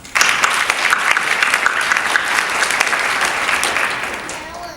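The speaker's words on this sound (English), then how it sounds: "Let's give them a quick round of applause." A room full of people claps steadily for several seconds at a high school Spanish Honor Society induction ceremony, a dense, even round of applause that fades slightly toward the end.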